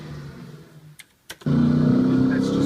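Engine rev effect from a Mustang pinball machine, a synthesized car engine sound that starts quiet, drops out briefly with a couple of clicks, then surges into a loud steady revving tone.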